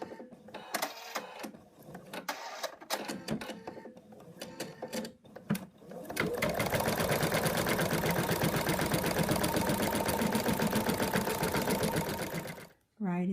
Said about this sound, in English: Now we're going to stitch out color 2 which secures it.